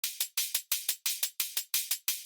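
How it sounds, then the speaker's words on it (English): A hi-hat pattern from the chorus of an electronic beat styled as a TRON theme, with bright, crisp open and closed hits in a quick, even rhythm, loud and isolated. "so I made sure I threw in a hi-hat."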